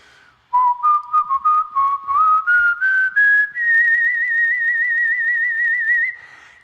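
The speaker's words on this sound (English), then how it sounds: "so here's whistle take one" A single person whistles a steady melodic line alone, starting with short separate notes that slide gradually upward, then holding a long sustained high tone for several seconds before stopping.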